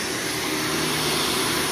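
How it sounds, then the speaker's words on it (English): A carpet cleaning vacuum with a lance attachment roars steadily and loudly at close range, working along the carpet edges during a carpet restoration job, with no talking over it. "he's holding the top of the vacuum and using the lance part"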